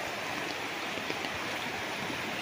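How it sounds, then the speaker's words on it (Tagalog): Rushing river water running steadily beside a farm lot in Nagcarlan, Laguna during the rainy season, a continuous broadband wash heard close and alone with no talk. "Dinig natin yung lagaslas ng ilog mga kaprops eh."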